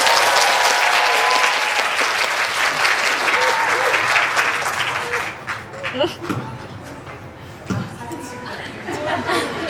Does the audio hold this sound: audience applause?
yes